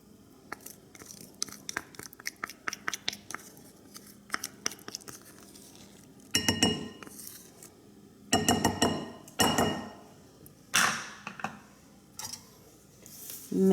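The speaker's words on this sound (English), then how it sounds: "Mix it all together." Casserole ingredients mixed with mayonnaise are stirred with a utensil against a glass dish, giving a run of light clinks followed by thicker, wet scraping and squelching strokes in bursts, close and fairly quiet.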